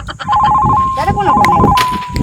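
A telephone ringtone plays in a rural Gujarati comedy setting, a steady warbling electronic tone that repeats through most of the moment, fairly loud and close, with people talking over it.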